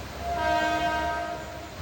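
The 22149 Ernakulam Pune Superfast Express sounds a sustained, steady horn over a low rail rumble, moderately loud and somewhat distant, with no voices.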